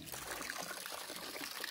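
Steady, soft rush of hose water pouring and trickling into a pig trough, a continuous splashing stream with no talking.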